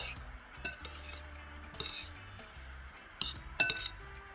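A spoon stirs chopped foraged ingredients for tropical Pele parcels in a bowl, making close clinks and scrapes of metal against glass or crockery in irregular bursts, louder toward the end, without speech.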